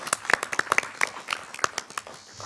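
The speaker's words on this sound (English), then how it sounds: "let's give them a round of applause" Scattered applause for council staff at a resident council meeting, a modest number of hands clapping in irregular, fairly close bursts with no talking over it.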